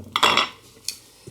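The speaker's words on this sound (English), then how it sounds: "I'm going to deepen that knife line with the bench chisel," A bench chisel chops into wood at a dovetail knife line, with a sharp close knock followed by a couple of lighter taps in a quiet workshop.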